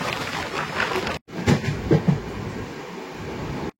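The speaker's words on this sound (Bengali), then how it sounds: "আর আমাদের ট্রেন ছেড়ে দিল বঙ্গাইগাঁও জংশন রেলওয়ে স্টেশন।" A passenger train led by a WDP4 diesel locomotive pulls out of Bongaigaon Junction, a steady rumbling rattle of rail noise broken by two brief cutouts, with no talking.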